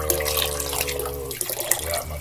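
Vinegar poured into a pot of water with spices for a crawfish boil, a steady close splashing trickle lasting about two seconds.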